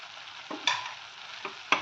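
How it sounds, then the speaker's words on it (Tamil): Seeds go into papaya halwa bubbling in a pan: a soft constant sizzle with a few sharp spoon taps as it is stirred, close and brief. "இப்போ நம்ம சீட்ஸ் எல்லாம் சேர்த்துடலாம்."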